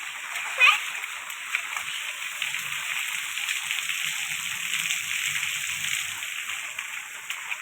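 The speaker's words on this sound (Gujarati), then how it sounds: "જો વરસાદ પાછો આવ્યો" Rain falls steadily, making an even, hissing patter with occasional splashes that holds at the same level throughout. Voices murmur faintly beneath it.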